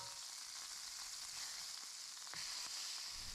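A steady, hissing sizzle of sausage browning in a frying pan in its rendered fat, close and continuous, with a few soft pops and crackles.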